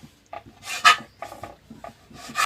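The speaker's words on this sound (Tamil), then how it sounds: "ப்ரெட்டை வந்து சைடில் கட் பண்ணிக்கலாம்" A knife trims the crusts off bread slices for a sweet recipe, several short scraping strokes in quick succession, close and fairly quiet, with no talk.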